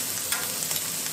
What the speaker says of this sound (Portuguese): Veio colocando aqui o camarão na chapa.